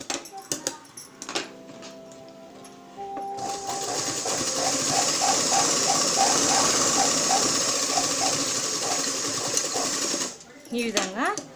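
A sewing machine stitches the side seam of a blouse, running in a steady, close mechanical whir for several seconds after a few short bursts, with a voice talking before and after.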